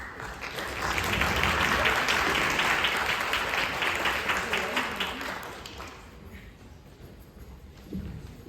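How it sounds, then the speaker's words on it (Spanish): An audience gives a big round of applause at an academic panel discussion, loud and dense at first and then thinning out, with voices faintly underneath as it fades. "un aplauso muy grande para el semillero Bauhaus"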